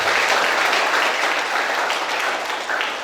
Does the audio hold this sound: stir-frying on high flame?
no